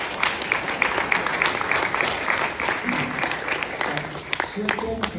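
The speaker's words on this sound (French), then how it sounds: "je crois qu'on peut les applaudir" An audience applauds at a tasting lecture held at a horticultural society, a steady wash of clapping across the whole stretch with a voice talking over it toward the end.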